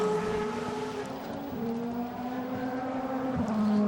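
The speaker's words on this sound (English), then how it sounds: "Out on the circuit, Spengler goes by." A DTM race car goes by on the Norisring street circuit as a sustained engine drone with shifting pitch, heard at moderate distance and fairly faint against the track ambience.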